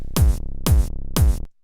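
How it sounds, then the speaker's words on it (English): A tone kick and a tight kick sound together as three layered hits, each a deep boomy thump with a bright attack and a short decay, evenly spaced, loud and alone. "The tone kick and the tight kick, they share identical frequencies, and together they sound like this"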